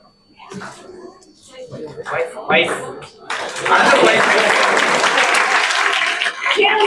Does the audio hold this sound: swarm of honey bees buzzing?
no